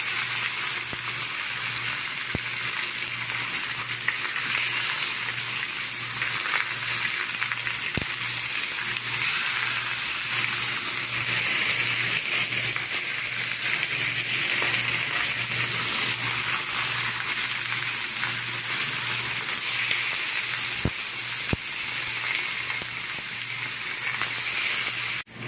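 A pork loin chop for carré à Paulista fries on a very hot griddle, giving a steady, loud, continuous sizzle with crackling oil that holds for the whole stretch, close by and with no talking.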